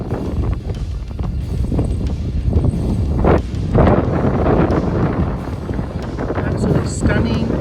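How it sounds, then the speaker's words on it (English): Strong wind at Arches National Park near Moab, Utah, buffeting the microphone with loud, continuous low rumbling and gusty surges throughout, with no clear voices. "Very windy here."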